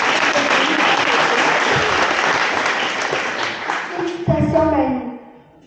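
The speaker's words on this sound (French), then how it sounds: "Une bonne main d'applaudissement pour Mamie!" An audience at a volunteer-of-the-year celebration bursts into sustained loud applause, dense clapping that fades near the end as a voice begins speaking.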